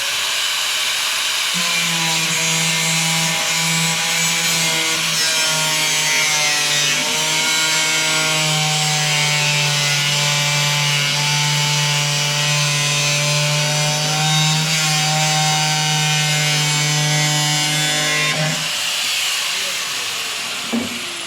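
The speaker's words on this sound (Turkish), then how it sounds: "Spiral çok tehlikeli çünkü." An angle grinder cuts through a plastic waste drum, producing a loud, sustained, high-pitched motor whine that holds steady for about seventeen seconds before stopping.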